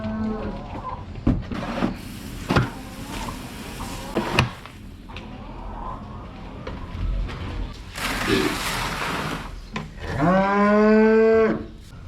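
Cows mooing on a farm, with one loud, drawn-out moo up close near the end, preceded by clattering knocks and shuffling noises and brief low animal sounds.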